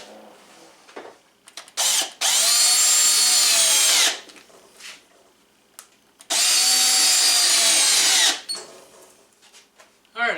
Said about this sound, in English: let's run a couple of screws in there